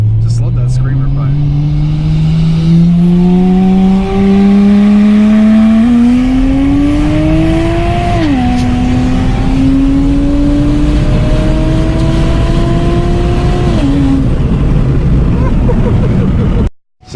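A Toyota Supra with a screamer pipe exhaust revs up through several gears, a loud, close, rising engine drone with brief dips at the shifts, holding steady throughout.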